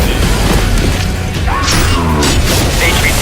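C4 explosive detonates in a video game trailer with a loud, heavy boom and crashing debris, followed by rumbling and scattered mechanical clatter.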